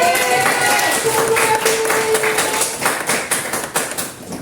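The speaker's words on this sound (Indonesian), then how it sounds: "beri tepuk tangan" A school audience gives a round of applause for a presenter at a staff session, the scattered claps starting over a faint tone and growing into distinct, uneven taps that fade in and out.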